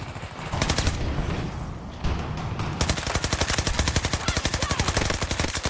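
Rapid automatic gunfire from Battlefield 2042, loud and close, with a brief burst early on and then a long sustained stream of evenly spaced shots.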